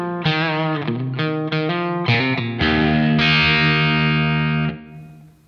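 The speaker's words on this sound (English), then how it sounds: "Now it goes to the reverb." An electric guitar through an Atomic Ampli-firebox Mark II amp modeler with reverb plays a handful of distorted chords and notes, then one held chord rings out and decays into a washy reverb tail.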